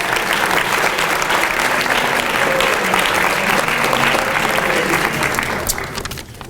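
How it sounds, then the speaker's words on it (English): Sustained applause from an audience at a men's cross country trophy ceremony, a dense steady wash of clapping with some crowd noise that holds loud for several seconds before tapering off at the end. "Give these guys a big round of applause."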